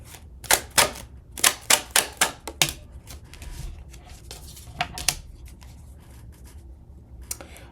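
Tarot cards shuffled and gathered by hand, a quick run of crisp riffling snaps close up, then softer rustling and a few scattered taps as the deck is squared.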